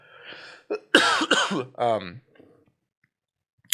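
A close, loud fit of harsh coughing, several rough bursts in quick succession, followed by near silence and a small click at the end.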